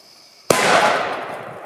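A Tarantula firecracker goes off in one sudden loud bang after a quiet lead-in, its blast decaying into a long, noisy rumbling tail.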